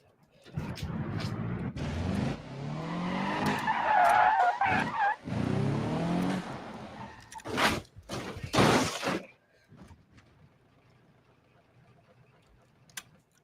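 A car in a BeamNG video game rollover crash test skids and tumbles with grinding tire scrapes, bangs and crunching impacts. These build over several seconds, then give way to faint ticking debris and near silence.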